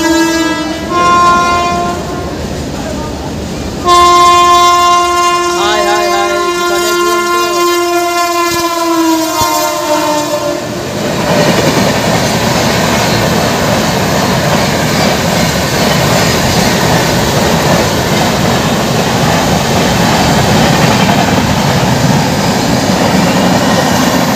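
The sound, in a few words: Sealdah–Bikaner Duronto Express train passing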